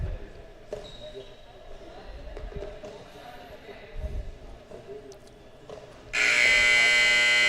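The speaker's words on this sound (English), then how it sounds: "There's the buzzer" A loud electronic buzzer blares at an indoor field hockey match, the women's USA vs. Canada final of the 2021 Indoor Pan American Cup, cutting in abruptly over low arena ambience and holding steady to the end.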